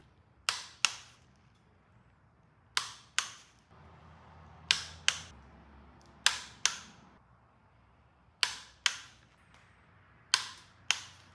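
A new torque wrench clicks while tightening aftermarket head studs on a Subaru STI engine rebuild, with sharp metallic clicks arriving in close pairs, repeated about six times with pauses in between. The clicks are loud and near, with faint shop noise in the background.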